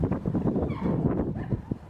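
Dogs at an animal shelter bark and whimper in a dense, continuous commotion of overlapping yips and woofs, moderately loud and close, with no clear speech.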